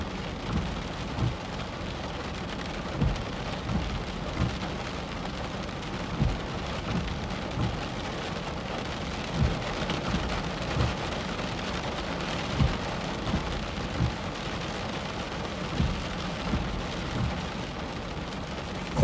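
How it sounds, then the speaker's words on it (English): Steady heavy rain pours down during a severe Corn Belt thunderstorm, with a constant hiss broken by frequent dull rumbles and thumps, no voices over it. "Here's the rain."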